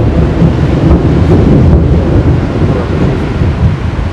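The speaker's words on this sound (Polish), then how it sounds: "ja się boję burzy jak cholera" Thunder from a seaside thunderstorm at Ustka on the Polish coast rumbles loudly and steadily, a deep continuous roll with wind buffeting the microphone and no voices.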